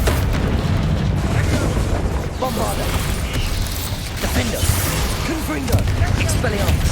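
Bombarda and Confringo spells exploding in the Hogwarts Legacy video game: loud, dense booms and blasts roll on continuously, with a voice talking over them.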